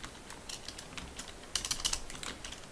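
Fingers type on a computer keyboard, entering a short search term into PDF software: light, irregular key clicks, close by, with a quicker cluster of taps midway.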